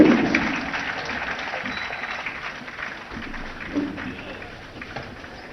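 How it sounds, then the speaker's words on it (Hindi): Crowd applause at a political rally in Jaipur swells at first and fades into a lingering wash of clapping and murmur, with a voice over the loudspeaker heard alongside. "एक बार जोरदार तालियों के साथ माननीय राष्ट्रीय अध्यक्ष जी का स्वागत।"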